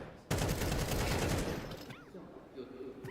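Rapid rifle gunfire erupts suddenly in a Counter-Strike match, a dense burst of overlapping shots that tapers off after about a second and a half, with a commentator's voice underneath.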